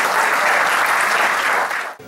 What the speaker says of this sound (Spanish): Vamos a despedirles con un fuerte aplauso